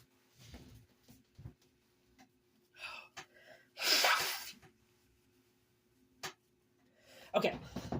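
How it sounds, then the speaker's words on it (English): A single sharp sneeze bursts out close and loud after some quiet breathing and gasps, followed by a few more breaths and a brief vocal sound. "I think I'm going to sneeze again"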